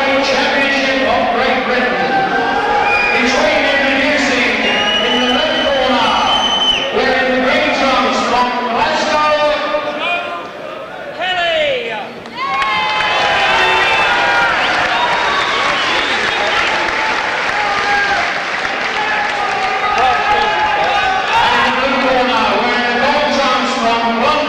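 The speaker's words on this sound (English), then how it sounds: "Regan's announcement, getting drowned by the crowd" A boxing crowd at a British flyweight title fight roars loudly and without a break, with a ring announcer's amplified voice buried underneath and a brief dip in the noise partway through.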